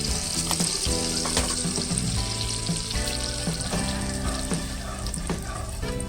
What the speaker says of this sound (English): Now you're pouring all the ingredients for the pan.